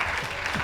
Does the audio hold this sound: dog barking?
no